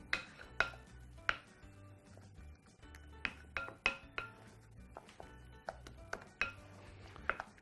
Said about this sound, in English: proceed to mix that through with a spoon